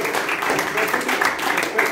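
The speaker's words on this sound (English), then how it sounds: "Can we have a round of applause for this gentleman?" A seated audience at a Toastmasters youth leadership meeting applauds a gentleman, steady dense clapping running evenly throughout without a break.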